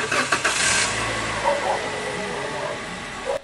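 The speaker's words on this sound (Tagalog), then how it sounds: "pa-start ko muna itong makina." A Toyota Avanza car engine cranks briefly and catches, then settles into a steady idle; close by.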